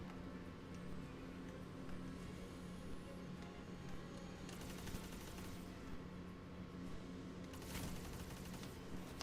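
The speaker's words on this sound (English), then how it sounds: "He's literally just peek shooting his pulse rifle" Gunfire from a pulse rifle peek-shooting in the online shooter Destiny 2. The shots come in rapid bursts set in a dense, noisy game mix with bright cracking peaks, and heavier flurries arrive near the end.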